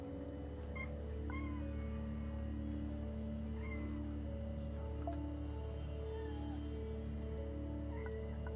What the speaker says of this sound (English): I'm hearing a cat.